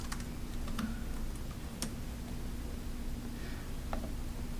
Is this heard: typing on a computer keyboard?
yes